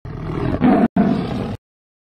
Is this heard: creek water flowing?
no